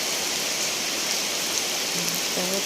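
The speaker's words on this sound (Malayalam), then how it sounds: "നല്ല മഴയാണ്." Heavy rain pouring down steadily, a dense even hiss close around, with a faint brief tonal sound near the end.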